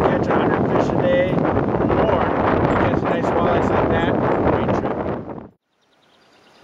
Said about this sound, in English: so wind's picking up a little bit, so we decided to go to a real windy bank here